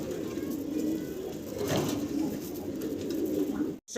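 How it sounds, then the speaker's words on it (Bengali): Pigeons coo steadily in low, throaty murmurs, a continuous rolling chorus close by at a pigeon farm, with no talking. "এখানে হচ্ছে ফিলব্যাক কবুতর আপনারা দেখতেছেন"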